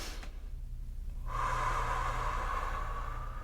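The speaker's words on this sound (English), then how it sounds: "Breathing in through your nose." A person takes a long, steady inhale through the nose during a guided breathing exercise, a close, airy hiss that starts after a brief silence and continues to the end.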